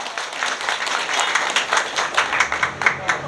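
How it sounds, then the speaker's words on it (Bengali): An audience at a stage gathering claps loudly and steadily, the quick dense applause swelling and pulsing for a few seconds with no speech over it. "তাদের উদ্দেশ্যে জোরে জোরে একটা করতালি দেয়"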